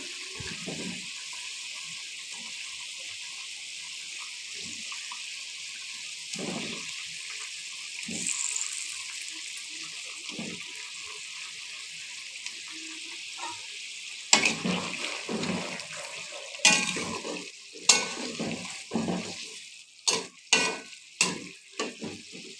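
Mrigal fish pieces go into hot oil for a potato and fish curry, a steady sizzle and hiss that grows into sharp, irregular spattering pops, loud and close, with no talk.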